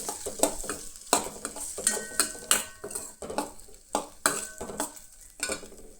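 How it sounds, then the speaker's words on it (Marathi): Spoon scraping and clinking against a pan while stirring sabudana khichdi with soaked sago pearls, a quick irregular run of close metallic strokes over a faint sizzle, with no talking. "हे सगळे हांगसर बरें मिक्स करून घेयात."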